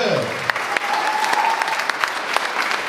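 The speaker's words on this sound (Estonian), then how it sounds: "Ja erilise aplausi teeme Bono Mosile." Wedding guests at a school wedding celebration in Lihula break into sustained, dense applause, a steady roar of clapping hands that carries on throughout with a faint voice underneath.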